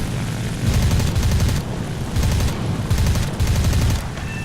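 Aircraft machine guns in the War Thunder arcade game fire in three or four hard, rattling bursts, each about a second long. They sit over a constant engine roar, loud and close.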